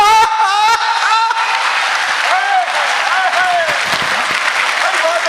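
Audience clapping at a comedy poetry gathering (kavi sammelan), a steady wash of applause running under a voice that keeps talking, with laughter-like crowd noise mixed in.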